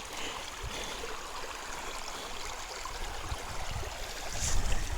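Water rushes and splashes steadily over gold concentrate being washed during a cleanup at an Arizona mining claim, a close continuous gushing that swells louder near the end, with no talking.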